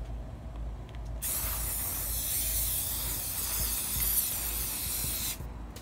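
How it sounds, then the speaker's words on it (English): Red apple-colored spray paint hisses steadily from an aerosol can onto wooden clothespins, one continuous spray of about four seconds that starts and stops abruptly against a quiet room. "I'm going to start out with the red, apple red spray paint,"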